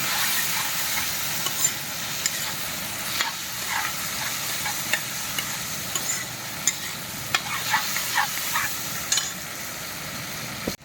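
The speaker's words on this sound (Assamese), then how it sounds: "এই বিলাহী দিলোঁ, বিলাহীটো পূৰা গুড়াকৈ ভাজি ল'ম" Tomatoes fry in oil with chilli, ginger and garlic while a utensil stirs them in the pan, a loud continuous sizzle broken by frequent scraping clicks, close up with no talking.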